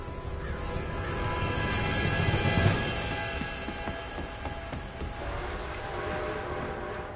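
A train in Red Dead Redemption rumbles and clatters steadily, growing slightly louder as it nears, with a continuous mechanical roar and no talking.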